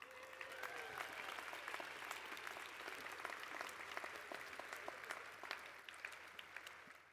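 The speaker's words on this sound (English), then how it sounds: "Give yourselves one more round of applause." Graduates at a university spring commencement ceremony applaud themselves, a broad, steady wash of clapping from a large crowd, fairly distant, with faint cheers mixed in before tapering off.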